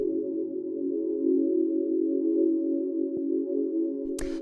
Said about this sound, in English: After that, we have the pad, which sounds like this.